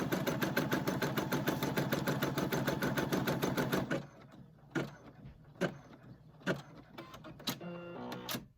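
Embroidery machine stitching a shopping cart coin holder key fob, a fast, regular mechanical needle rattle for about four seconds, then stopping, followed by scattered clicks and small handling knocks close by.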